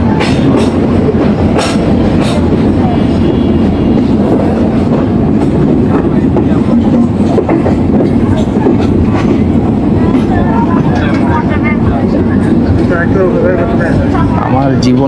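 A packed passenger train nears Chapainawabganj, its loud, constant rumble and clattering wheels running throughout, with the murmur of a crowd mixed into the noise.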